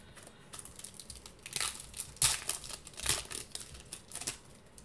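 A Yu-Gi-Oh card deck shuffled by hand, a quick run of papery riffling and slapping bursts, close and moderately loud.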